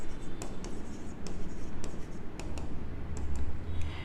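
Pen scratching across paper as an accounting entry for a bank reconciliation statement is written by hand, a steady close scratching with a few sharper ticks and no talking.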